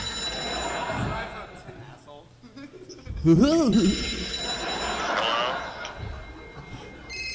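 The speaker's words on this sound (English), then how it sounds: "He has an actual old school phone ring." An old-school telephone bell rings at a live comedy show, a short warbling metallic ring bursting out loudly midway over crowd noise and murmuring voices.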